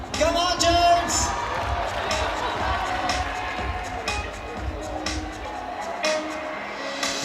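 A crowd at a bouldering competition semi-final at the IFSC Climbing World Championships in Munich cheers a 29-year-old Australian climber, a steady roar of voices with claps and whoops under a commentator's talk.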